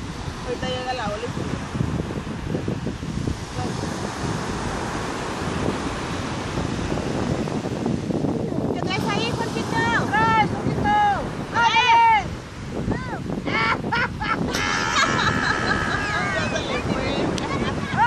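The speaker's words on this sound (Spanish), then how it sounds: "Ahorita llega la ola." An ocean wave rolls in with a building wash of surf under heavy wind buffeting on the microphone, while people chatter and whoop nearby.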